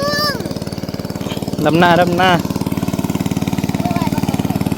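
A small engine-driven water pump runs steadily in a rice paddy, a loud constant chugging drone throughout, while a person talks briefly over it near the middle.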